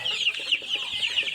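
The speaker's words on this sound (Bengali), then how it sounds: "দেখেন মুরগিগুলো" Tiger chickens on a poultry farm give a run of close, repeated high clucks in quick rhythmic pulses over about a second and a half, with no talk.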